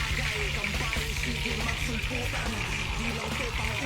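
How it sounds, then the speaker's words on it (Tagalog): Tempura in batter deep-frying in hot oil, a steady dense sizzle and crackle throughout, fairly loud and close, with background music or voices faintly underneath. "Sabay deep fry natin dyan."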